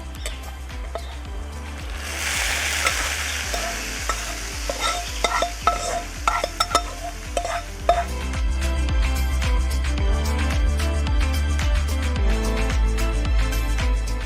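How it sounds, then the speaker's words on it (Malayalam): Hot oil crackles and sizzles loudly as a mustard seed tempering is poured into a cucumber, yogurt and ground coconut curry, with a busy spitting burst that settles into a steady fizz. "ഇത് കടുക് വറുത്ത കറിയിലോട്ട് ഒഴിച്ചു കൊടുക്കാമേ"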